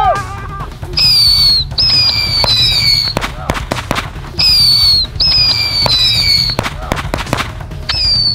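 Box fireworks, a multi-shot cake, fire off in rapid bursts of cracks and pops over a steady roar, with high whistling rising tones between volleys. The sound is loud and near, and voices are heard faintly beneath it.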